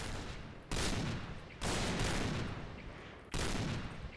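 Three bursts of rapid automatic gunfire in the shooter game Point Blank, each a dense loud roar lasting about a second, separated by brief pauses.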